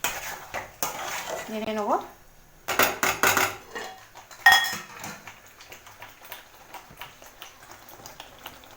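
A utensil stirs food in a cooking pot during a home-cooked Sunday lunch, giving scattered clinks and scrapes in short bursts, with someone talking briefly between them.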